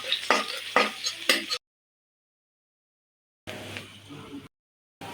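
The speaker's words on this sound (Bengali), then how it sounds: "দিয়ে দিলাম পরিমাণ মতো তেল, দিলাম পেঁয়াজ কুচি, রসুন কুচি, নাড়াচাড়া করলাম" Chopped onion and garlic fry in oil while being stirred, with a few close scraping strokes and a soft sizzle in short bursts separated by abrupt silences.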